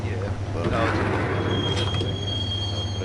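Subway train riding in the video game Max Payne 2, with a steady low rumble, rattling wheels and a thin high squeal running under the carriage, loud and continuous throughout.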